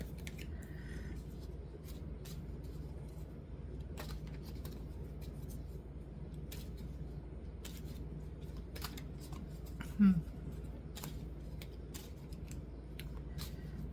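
Soft, repeated papery flicks and riffles of tarot cards being shuffled, quiet and close, with a steady low background hum.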